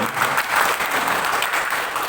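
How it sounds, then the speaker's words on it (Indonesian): Audience applause at a journalist training event fills the moment, a dense, steady clatter of many hands clapping at a constant loudness with no voices standing out. "Tepuk tangan"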